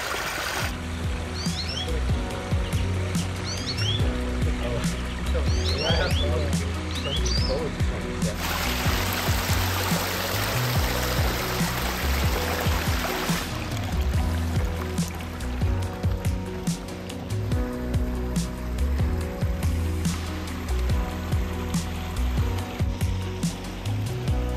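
Garden waterfall water feature in a courtyard rock garden, a continuous gentle flowing and splashing wash of water with birds chirping intermittently and a brief louder gush midway, fairly close.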